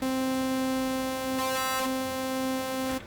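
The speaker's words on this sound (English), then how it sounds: "the frequency modulation will modulate my basic saw with the basic sine wave instead." A harsh, droning synthesizer tone from a saw wave frequency-modulated by a sine holds for three seconds, with a brief burst of bright, gritty high overtones flaring in the middle before it cuts off.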